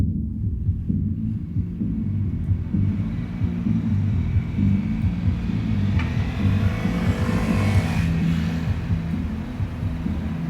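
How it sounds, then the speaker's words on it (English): Street traffic on Brunswick Street outside a club: a constant low engine rumble and throbbing, with a vehicle passing closer and louder around the middle, and no voices. "So there's a bit of traffic going on there."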